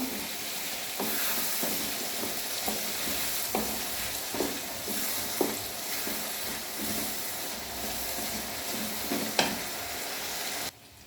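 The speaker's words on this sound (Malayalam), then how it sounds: "നന്നായിട്ടൊന്ന് ഇളക്കി കൊടുക്കാം." A spoon stirs a hog plum and chili pickle in a pan after a splash of vinegar, with soft regular scraping taps over a constant low sizzle and hiss.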